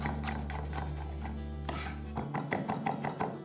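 A knife finely chopping garlic on a board for Indonesian-style meatballs, a quick run of crisp, rhythmic taps close up, heard alone.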